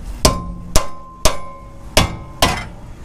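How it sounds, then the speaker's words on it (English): Five sharp, evenly spaced blows ring out as a rubber mallet or dead blow hammer strikes a corroded, stuck brake rotor, each impact loud and close with a short metallic ring. "a rubber mallet or a dead blow hammer is what you need to do. You hit it a couple times and hopefully it'll break free"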